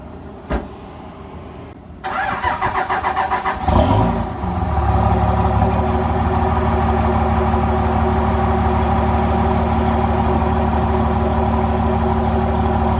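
A diesel engine fitted with a rebuilt common rail injector cranks briefly, catches and settles into a steady, loud, rumbling idle that holds evenly without any talk.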